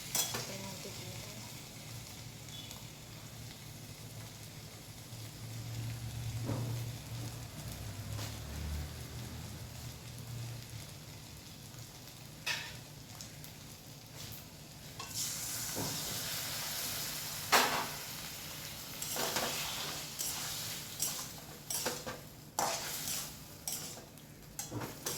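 Mustard paste goes into a hot frying pan and sizzles, giving a steady hissing fry with stirring scrapes and a few louder sputters toward the end, recorded close with little talk.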